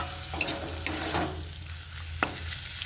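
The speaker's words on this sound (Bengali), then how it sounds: "তো দেখুন খাসির চর্বিগুলো দিয়েছি, বেশিক্ষণ কষবো না" Goat fat sautés in a pan with a steady, moderate sizzle, broken by a few sharp scrapes and taps of a spatula against the metal.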